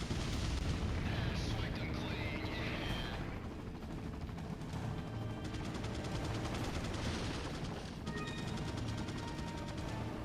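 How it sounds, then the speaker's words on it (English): A Gatling gun in a video game firing long rattling bursts amid heavy booming blasts, loud and dense throughout, with a voice talking over the gunfire. "They're having a great old time with the Gatling gun anyway"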